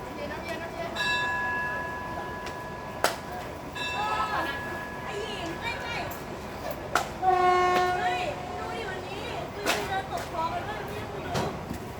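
Ordinary passenger train no. 282 on the Kabin Buri to Bangkok line at Hua Takhe station, Thailand: a train horn sounds in several sustained blasts over station ambience, mixed with sharp metallic clanks and a bell-like ringing.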